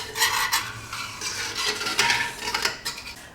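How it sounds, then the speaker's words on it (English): A utensil stirs and scrapes back and forth across the bottom of a pan of onion and mushroom gravy, deglazing it with a repeated, gritty rasp at close range. "So just stir it, go back and forth, and get that deglazed off the bottom of your pan."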